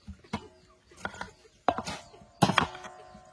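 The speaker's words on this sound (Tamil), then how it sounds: "வெங்காயத்தை தோல் உரிச்சிட்டு நமக்கு எப்படி கட் பண்ண தெரியுமோ அப்படி கட் பண்ணி எடுத்துக்க வேண்டியதான்" A knife chops through an onion on a cutting board, four separate sharp cuts spaced about a second apart, close and fairly quiet.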